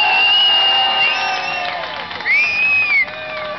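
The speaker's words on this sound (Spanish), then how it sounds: "Aplausos para la moto de Juanma." Onlookers at a motorcycle meet cheer and applaud Juanma's motorbike during a popular vote, with loud, shrill whistles and whoops rising over a short burst of crowd noise.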